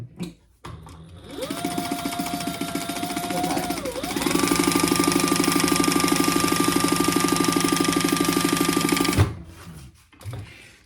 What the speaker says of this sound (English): I'm just going to sew the bottom, leaving my sides open for now